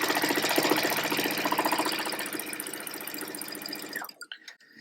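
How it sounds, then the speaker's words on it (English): A sewing machine runs steadily, stitching quilt block pieces for a heart block at a scant quarter-inch seam, with a fast even mechanical chatter close up that stops abruptly near the end. "And I'll put that into my machine, and I'm going to take just a couple stitches at a scant 1/4 inch just to kind of hold it together"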